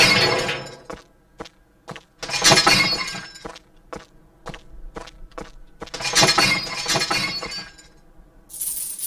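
Glass bottles shatter and clink as they are tossed into a trash bin while sorting rubbish during a train station cleanup, several loud crashing bursts in quick succession, close by, with scuffing steps between them.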